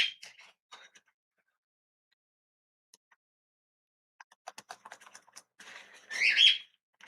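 A pet bird chirps indoors in sparse, faint bursts, a few quick tweets at the start and then a busier cluster of sharp chirps and a louder trill near the end, with quiet gaps between.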